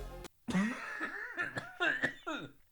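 Several rough coughs and throaty bursts in quick succession, close to the listener, mixed with voiced sounds.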